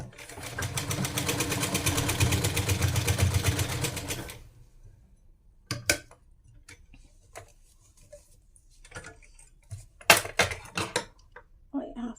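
A sewing machine stitches a kurti seam in a steady, dense whirring run for about four seconds, then stops, leaving scattered soft clicks and fabric-handling taps.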